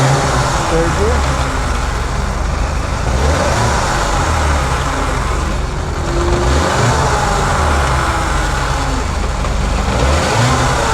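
A 1998 Yamaha YZF600R Thundercat motorcycle engine revs loudly and steadily in third gear for several seconds, with wavering engine tones, heard up close with no clear talk.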